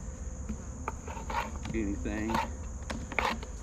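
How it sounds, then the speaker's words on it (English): Honeybees buzz around an opened hive during requeening, a busy close hum with scattered louder passes and a steady high whine, while a voice speaks briefly. "I still have bees everywhere, so that's always good."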